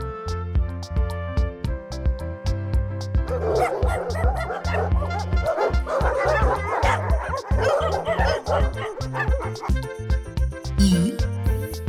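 Cartoon dog in a children's alphabet animation gives a run of yappy barks and yips, close and loud, over a continuous bouncy music bed.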